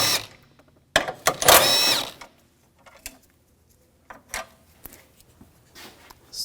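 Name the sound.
13mm socket removing AC condenser bolts on a BMW X5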